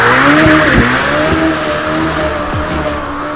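A Lamborghini Temerario sports car drives past close and loud, its engine droning with shifting pitch and a touch of tire squeal, with no talk over it.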